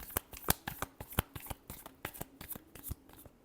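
A deck of tarot cards is shuffled close up, a quick irregular run of crisp riffling slaps and flicks, soft and without talk.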